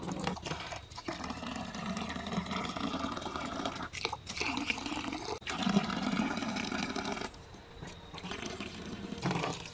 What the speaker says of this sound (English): I'm gonna fill it up just over top of everything so everything's covered with water.